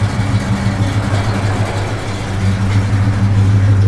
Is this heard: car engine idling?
yes